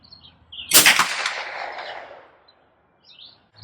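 A single sharp .22 LR rifle shot from Federal high-velocity hollow-point ammunition fired over a chronograph, a loud crack with a decaying ring-off, then quiet outdoor ambience with faint bird chirps.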